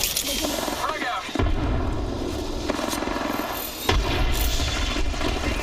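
Frag grenade explosion in the Apex Legends video game, heavy booming blasts over sustained loud gunfire and battle noise, with a sharp deep impact near the middle and another toward the end.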